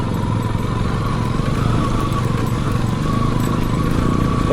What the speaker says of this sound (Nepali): ट्र्याक्टर आयो।